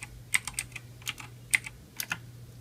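Keys tapped on a computer keyboard to enter a command, a few quick sharp clicks in short uneven bursts, close and clear with no talk.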